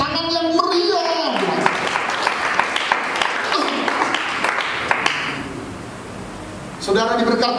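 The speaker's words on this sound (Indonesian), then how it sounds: "Yang mengerti kita beri tepuk tangan yang meriah." Church congregation clapping at an Indonesian-language worship service, a steady wash of applause with a preacher's voice over it, fading out before speech resumes near the end.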